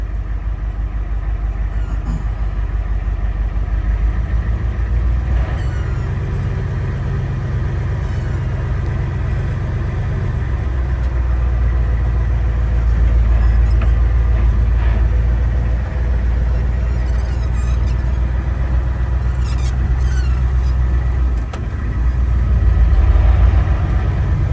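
A self-built 1973 truck with a 7.3L engine runs steadily, its deep, close engine rumble continuing for about twenty-five seconds and swelling slightly midway with small shifts in load. No one speaks.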